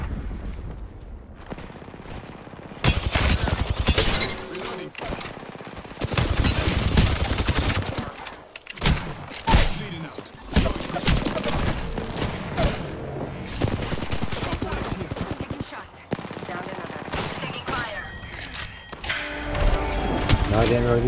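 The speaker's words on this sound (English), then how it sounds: "Getting shot at." Gunfire in an Apex Legends arena match, with dense bursts of rapid shots and booming impacts that go on almost without a break, loud and close, with a voice talking over the shooting.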